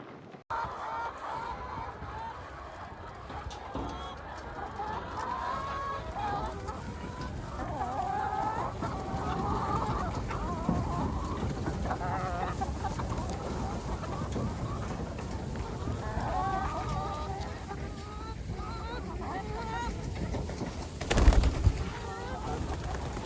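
Many chickens cluck and murmur continuously close by, a dense steady flock chatter with a brief louder bump near the end.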